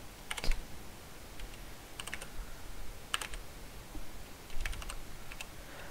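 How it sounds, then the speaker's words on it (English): Single keys are struck on a computer keyboard in a quiet room: a handful of sharp, scattered taps, some in quick pairs, close and fairly soft. "just typing in a random key works"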